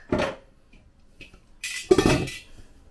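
A lid clanks onto a metal pot of simmering pork dinuguan: a soft knock, then a brighter metallic clatter and clink as it settles, close and brief in a quiet kitchen.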